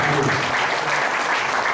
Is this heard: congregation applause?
yes